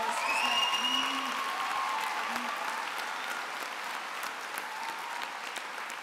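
A room full of people at a Glasgow degree ceremony claps steadily, a dense wash of applause that gradually thins out, with a faint voice near the start.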